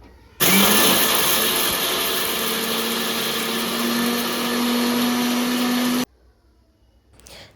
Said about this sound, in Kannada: ಮಿಕ್ಸಿ ಜಾರಿಗೆಲ್ಲ ಅದನ್ನ ಹಾಕ್ಕೊಂಡು ರೆಡಿ ಮಾಡ್ಕೊಂಡು ಹೋಗಿ ಮಿಕ್ಸಿ ಮಾಡೋಣ